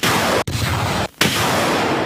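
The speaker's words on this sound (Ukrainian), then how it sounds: "Військові здійснюють постріл." A loud, roaring blast of broadband noise fills the clip, broken by two brief dropouts, like a rocket launcher firing close by.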